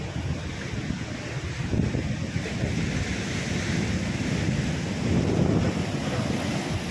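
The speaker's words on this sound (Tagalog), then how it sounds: "Medyo malakas yung alon mga kabayani." Strong sea waves off the coast of Libya during a fishing trip, a steady surging wash of surf mixed with heavy wind buffeting, continuous and fairly loud with no voices.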